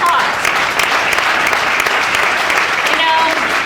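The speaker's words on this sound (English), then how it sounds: "We should have an applause." A crowd bursts into loud, sustained applause at a Medicare enrollment talk, dense clapping throughout with a voice faintly cutting in near the end.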